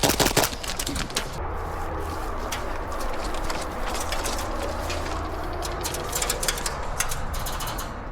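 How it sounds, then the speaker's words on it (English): Airsoft guns fire during an airsoft game, including a gas blowback rifle: rapid clicking shots and pellet impacts in dense irregular bursts over steady outdoor background noise, fairly faint, with no talking. "I have never been shot at this much in my entire airsoft career"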